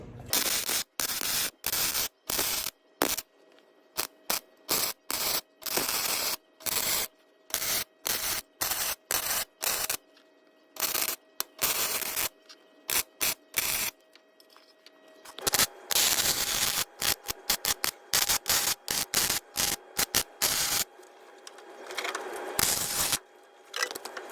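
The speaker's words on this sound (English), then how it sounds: "So let's get to welding this bad boy." Welding a part in a workshop, heard as bursts of harsh crackling static broken by abrupt silences, starting and stopping repeatedly at close range with no voices.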